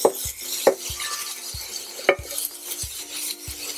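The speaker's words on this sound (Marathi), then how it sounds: "आता याच्यामध्ये ऍड करूया टोमॅटो." Finely chopped tomato being stirred into sautéed onion in a pan, with a series of sharp utensil scrapes and knocks against the pan over a faint sizzle.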